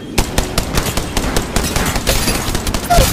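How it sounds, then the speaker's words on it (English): Rapid automatic gunfire in a squad-based battle royale shooter game, loud and continuous with sharp repeated bursts for about three seconds, no talking over it. "A second squad is firing at us."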